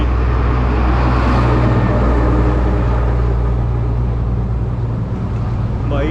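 Heavy trucks roar past on a road in Laos, a loud, continuous rumble of engines and tyres filling the whole stretch with no pause, close by and steady.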